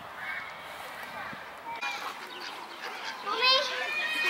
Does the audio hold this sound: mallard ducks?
yes